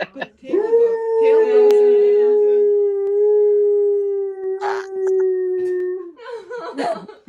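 A dog's long, sustained howl played back over a computer, loud and steady for several seconds with a rising start, with faint voices and a short laugh around it.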